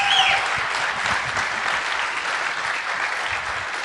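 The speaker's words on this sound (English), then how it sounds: "Let's give a big round of applause." Audience applause fills a competition finals hall at a university startup event, steady dense clapping sustained throughout at moderate loudness with no speech.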